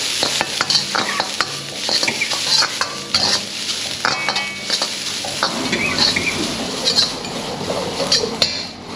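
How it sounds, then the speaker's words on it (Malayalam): Beetroot and green chillies stir-frying in coconut oil in a restaurant kitchen, a steady sizzle broken by repeated scraping strokes of a spoon against the pan and light metallic clinks, close and fairly loud, with no talking. "കോക്കനട്ട് ഓയിൽ ഒഴിച്ചു ബീറ്റ്റൂട്ടും പച്ചമുളകും മാത്രം"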